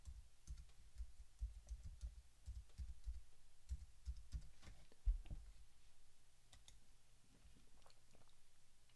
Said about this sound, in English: I'm gonna type in TD Ameritrade